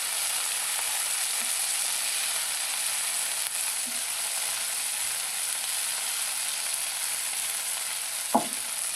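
Shredded coleslaw cabbage and carrots, with no dressing, fry in a pan as vegetables for Hawaiian fried rice, giving a steady, even sizzle throughout and one brief utensil knock near the end.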